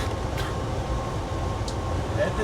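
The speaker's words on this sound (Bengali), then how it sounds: "এই যে ট্রেনটা রয়েছে এদিকে যাচ্ছে, এটা এখানকার লোকাল ট্রেন।" A local train on the Banihal route rumbles past with a steady low drone, close and continuous, with faint hiss and a couple of brief higher squeals, no voices.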